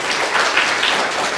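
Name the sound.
audience applause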